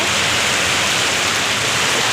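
Heavy rain pours down in a dense, continuous wash of noise, loud and even throughout with no break.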